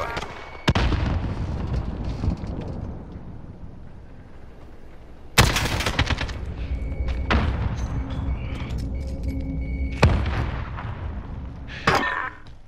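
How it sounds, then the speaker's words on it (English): Gunshots ring out in a video game gunfight, with sharp loud bursts and booming reports scattered across the exchange over a rumbling background, some shots landing in quick clusters. "Where are my shots going?"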